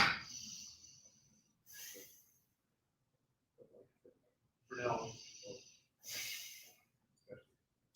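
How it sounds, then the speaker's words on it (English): Slow, relaxed breaths during a guided breathing exercise come as a few long airy inhales and exhales separated by pauses, close and soft, with brief murmured voice fragments in between. "we're just breathing here"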